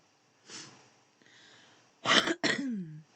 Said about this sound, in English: Excuse my smoker's cough.